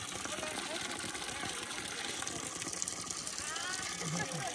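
Water pours steadily from a small waterfall where people bathe, a continuous gushing splash with voices talking over it.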